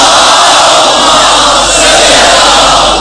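Loud, dense crowd voices chanting salawat together at a religious gathering for Eid e Ghadeer, a sustained roar of many people reciting in unison for the whole short stretch.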